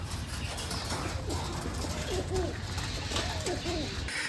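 Giriraj (Giribaj) pigeons cooing at a loft in Bangladesh, two short bursts of soft, throaty coos over a background hum.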